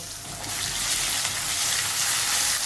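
Tomatoes with curry leaves, crushed ginger and green chili sauté in a hot pan, giving a steady, close hissing sizzle that runs unbroken from start to finish with no voices.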